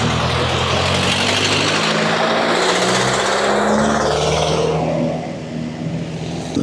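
A motorcycle passes close by a Fiido L3+ e-bike on a road in Marikina, a loud engine-and-wind rush that stays close for several seconds, then eases off as it pulls away.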